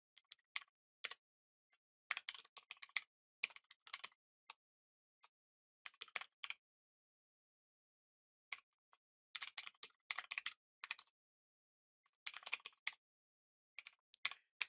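Code being typed on a computer keyboard: close, crisp key clicks arrive in quick irregular bursts separated by silent pauses, with no talking over them.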